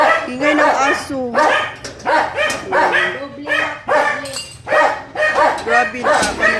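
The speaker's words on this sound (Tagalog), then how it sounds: "Ingay ng aso." A dog barks and yips repeatedly nearby, loud and insistent, mixed with people talking over it.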